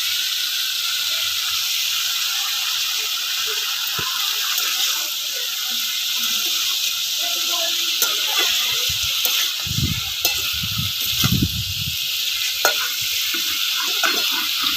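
Onions frying in a pan for a spicy Bengali river fish curry, a steady loud sizzle and hiss throughout with occasional scraping stirs and clinks of the spatula toward the end.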